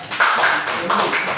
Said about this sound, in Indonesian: Oke, aplaus dulu.